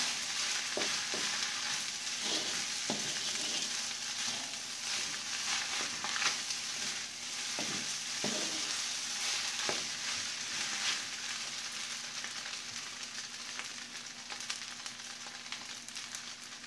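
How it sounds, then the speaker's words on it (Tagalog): Fried rice with egg is stir-fried in a pan, a continuous sizzle broken by irregular scraping and clanking of the spatula against the pan, close and steady with no talking. "Yan ang aking style sa pagluluto ng sinangag"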